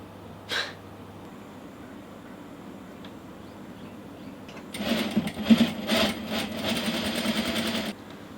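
A sewing machine stitches wedding dress bodice pieces. It starts after a quiet stretch and a short breathy sound, then runs in a steady, close, whirring rhythm for about three seconds with no talking.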